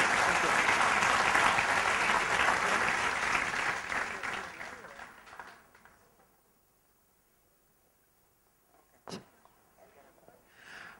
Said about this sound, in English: Ladies and gentlemen, a huge round of applause for Sabirul Islam.